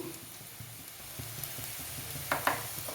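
Curry leaves sizzle in hot oil in a pan while pork and papaya curry is cooked, a steady soft frying hiss with a few brief stirring scrapes near the end.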